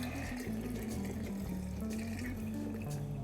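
Water runs steadily from a tap over a bottle being sterilized, a continuous soft splashing stream with a low hum underneath, fairly quiet.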